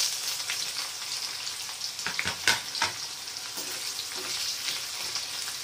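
Onions fried in hot tempering oil for a Maharashtrian pithla, with a constant bright sizzle and a few sharp scrapes and clatters from stirring near the middle.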